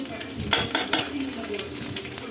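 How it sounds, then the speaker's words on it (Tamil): Finely chopped garlic, about fifteen cloves, fries with cumin seeds in a pan, a close steady sizzle broken by a few sharp scrapes and clinks of a spoon stirring. "பூண்டு நல்லா வதங்கட்டும், ஒரு கோல்டன் ப்ரௌன் ஆகிற வரையும் வதக்கட்லாம்"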